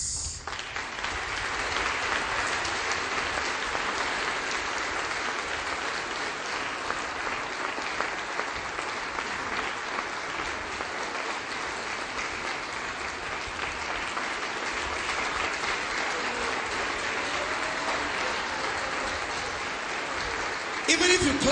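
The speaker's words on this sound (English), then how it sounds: "Your clapping doesn't show you love Jesus" A large congregation at a sermon keeps up long, continuous applause. The clapping is dense and steady throughout, swelling slightly at the very end.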